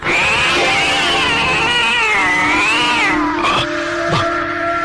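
A loud, drawn-out cat meow as a radio drama sound effect, wavering in pitch for several seconds close to the listener, then breaking into shorter yowling cries.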